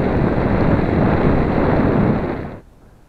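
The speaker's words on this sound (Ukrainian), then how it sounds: "Сьогодні вітер такий, не знаю, що буде." Strong wind buffets the microphone over wave-tossed water during a crucian carp fishing trip, a loud, steady roar that cuts off abruptly near the end.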